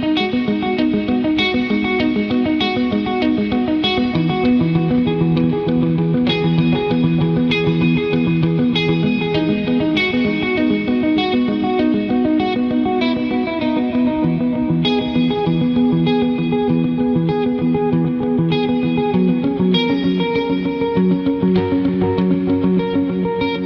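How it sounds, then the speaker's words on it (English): An electric guitar plays through a Horizon Devices Flux Echo pedal, its delay set with reverb, giving repeated picked notes and chords that trail into dense, slightly degraded analog-style echoes and a lingering wash, loud and continuous with no speech. "the delay, I think, stays with that kind of degraded analog sound"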